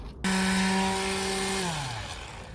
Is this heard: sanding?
yes